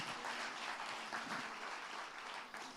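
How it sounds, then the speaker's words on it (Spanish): Applause from a church congregation during an evangelical sermon, a steady dense clapping wash held at even loudness for a few seconds, with no voices over it. "Da un fuerte aplauso"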